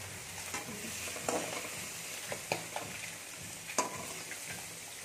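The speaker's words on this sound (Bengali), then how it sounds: "মাছটা ফাটছে ফট ফট করে।" Rohu fish frying in hot oil while cooking with beans, eggplant and drumsticks, a steady sizzle broken by scattered sharp pops and crackles, close and moderately loud.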